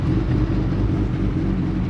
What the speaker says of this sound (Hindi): आइए सुनते हैं हायाबुसा की आवाज़।